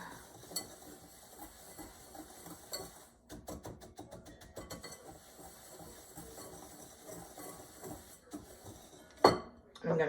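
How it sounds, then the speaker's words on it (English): Metal whisk clinking against a cup while sauce ingredients for a homemade hamburger-helper-style macaroni dish are mixed, with irregular scraping and tapping at close range and voices over parts of it. "Give it a whisk."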